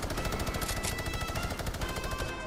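Rapid gunfire in the video game Fortnite, a dense, loud burst of repeated shots filling the whole clip with no talk.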